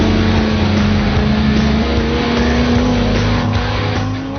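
Ronaele 700R Mustang street car engine revving loudly and steadily, a throaty V8 drone with pitch climbing slightly under throttle, close and continuous throughout.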